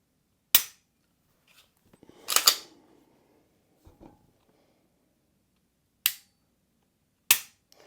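Sharp dry clicks from a Shadow Systems XR920P pistol fitted with a Trijicon SRO and Surefire X300 Turbo, a couple of isolated snaps with a fuller double click between them, close and loud in a quiet room.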